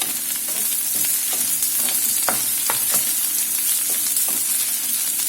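Ginger slices frying in a pan for egg chilli give a constant hissing sizzle, with sharp intermittent taps of a spatula stirring, close up and with no voices.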